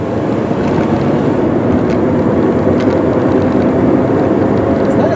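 A steady, loud roar of wind, road and tire noise inside a moving 2000 Subaru Forester S AWD. The low rumble stays constant throughout.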